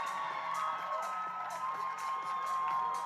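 Spectators at a men's boulder and lead climbing final in Pretoria cheer and whoop for a climber, a continuous crowd roar with scattered shouts over a steady tonal hum.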